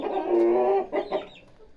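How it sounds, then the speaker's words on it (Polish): Close chickens, a rooster and hens, clucking and murmuring, a drawn-out cluck followed by a few short, softer clucks, with no talk. "Tam jest kogut, a tu, a tu kurka."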